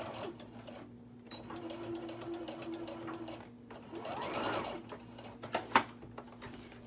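A sewing machine stitches a seam on a boxed-bottom cosmetic bag, running in steady whirring stretches broken by short pauses and sharp mechanical clicks, fairly close and quiet.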